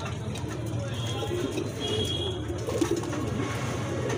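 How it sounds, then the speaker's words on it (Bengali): A male pigeon at a pigeon sale coos softly and repeatedly in low murmuring calls while being held near its mate, under steady background noise from a busy setting. "দেখেন আমি মাদিটা ধরি, নটটা কিরকম ডাকি।"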